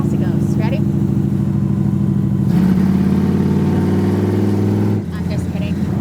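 A classic Chevrolet Bel Air engine revs hard and pulls through a steady acceleration, loud and close, with a rising tone that drops off near the end.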